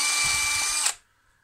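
A power drill bores a 6mm hole into the body of a turned wooden Viking toy: a brief, close, high-pitched whine that stops sharply, followed by near silence.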